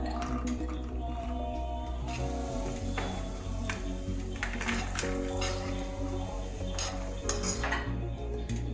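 A spoon scraping and clinking against a pan while wheat milk halwa is stirred with ghee, cashews and raisins, with steady close metallic taps and scrapes over a low background hum.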